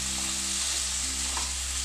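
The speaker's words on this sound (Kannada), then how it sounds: "ಚೂರು ಫ್ರೈ ಮನ್ಪುಗ." Bitter gourd fries in a pan with a steady, close sizzle that holds at an even loudness throughout. No voices are present.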